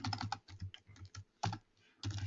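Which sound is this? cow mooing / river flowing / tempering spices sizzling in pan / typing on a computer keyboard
typing on a computer keyboard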